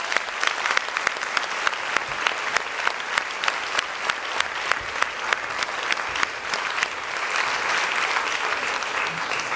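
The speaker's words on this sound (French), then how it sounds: "et je crois qu'on peut les applaudir." Audience applause during a theatre season presentation, steady loud clapping with a few distinct sharp claps standing out near the front, continuing evenly and thickening slightly toward the end.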